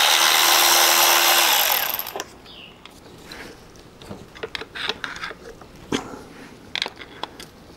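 Removing a 10 mm bolt in the engine bay of a VW Mk5 GTI: a loud burst of broadband noise gives way to quick ratchet clicks and metallic tool taps, close and irregular.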